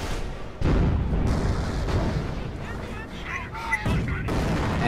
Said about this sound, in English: it looks like we got an AT gun shooting from somewhere